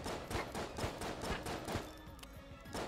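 Rapid bursts of enemy gunfire in the video game Enter the Gungeon, with quick evenly spaced shots popping in a steady rhythm before thinning out toward the end.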